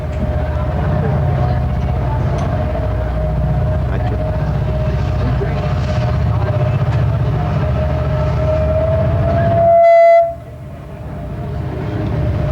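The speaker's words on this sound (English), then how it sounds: "we have one of our trains go through" A passing train rumbles steadily with a low drone and a sustained tone, swelling louder before cutting off abruptly near the end, with no speech over it.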